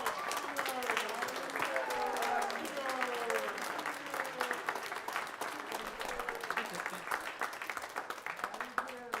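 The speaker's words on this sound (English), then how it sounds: "If we give them a round of applause as well, just one more time." An audience at a high school concert band Christmas concert applauds steadily for the full stretch, a dense, even wash of many hands clapping with scattered voices mixed in.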